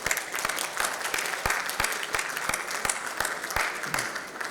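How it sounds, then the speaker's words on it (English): Audience at an education conference on budget private schools gives a round of applause, steady clapping from a sizable crowd with distinct sharp claps standing out throughout, no voices over it. "I want to just invite a round of applause for you guys for what you've done"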